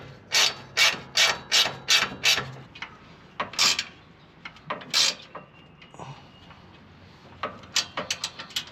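Ratcheting wrench tightening a bolt and nut onto a snow plow, a close series of sharp clicking strokes in quick bursts, then scattered metallic taps and slower ratchet clicks.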